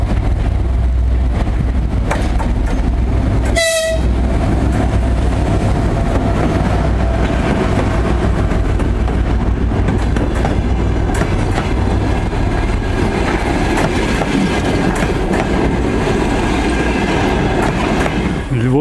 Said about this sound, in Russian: Подъезжает поезд на Львов.